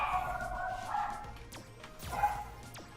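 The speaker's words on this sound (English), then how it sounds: "That dog is still going." A dog barks repeatedly in the background, faint and somewhat distant, a few short yips and woofs spread over a few seconds under quiet ambient noise.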